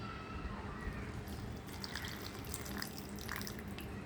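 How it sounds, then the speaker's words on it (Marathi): A soft, continuous stream of water pouring into an instant topokki rice cake cup, faint and steady throughout. "तर याच्यात पाणी घालतो."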